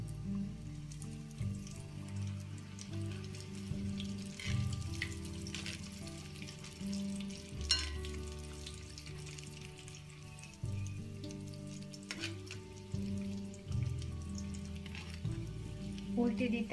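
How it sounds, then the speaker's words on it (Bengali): Keema puli pitha deep-fry in plenty of hot oil over medium heat, giving a soft, steady bubbling sizzle. The sizzle is faint and runs continuously beneath a low, humming tonal background. "তেলটা বেশ খানিকটা হবে যেন ডুবো তেলে আমি ভাজতে পারি।"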